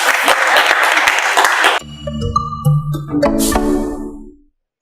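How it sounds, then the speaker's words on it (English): Audience applause fills the first two seconds as a dense, loud clatter of many hands, cut off abruptly and followed by short electronic tones and music. "clap for me, please."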